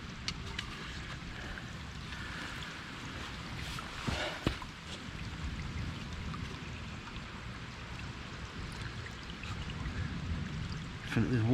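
Water is poured into a Grayl water filter bottle at a coastal campsite, a soft gurgling trickle over quiet ambient background, with a few faint knocks of handling.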